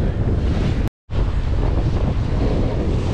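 Strong wind roars across the microphone on a cold sailing outing, a dense, loud rush broken once by a brief dropout before the gusting blast resumes without pause.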